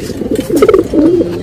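An Andha pigeon gives a short, close cooing phrase, a pair of low rolling coos over a faint background rumble.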